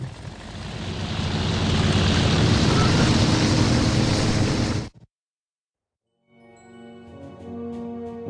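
World War I biplane engines drone loudly and steadily in the Wings Remastered flight game for about five seconds, then cut off abruptly into silence, followed by softer tonal game sounds fading in.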